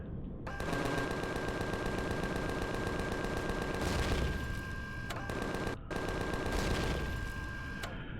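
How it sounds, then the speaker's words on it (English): Sentry guns firing in the space survival game Empyrion, a loud, sustained machine-gun stream of rapid shots with a couple of brief gaps, no voices. "they're literally sentry guns"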